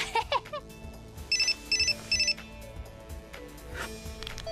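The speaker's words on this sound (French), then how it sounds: "Un texto." A cartoon phone's text message alert, three short bright chiming beeps in quick succession, loud and clear over faint background music.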